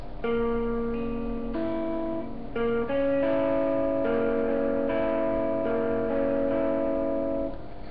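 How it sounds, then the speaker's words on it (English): Sustained plucked guitar notes ring together, a few diminished triad chords struck in sequence and left to sustain, clean and close with no talking. "I'm going to play the diminished triad here."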